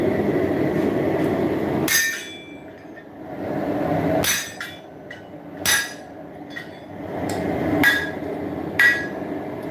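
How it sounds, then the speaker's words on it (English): Loud, sharp hammer blows on hot steel ring out one at a time with pauses between them, with a low rumbling background, as a knife blade is forged. "Generally, for transfer hammering, I like to have my steel up pretty warm, pretty hot."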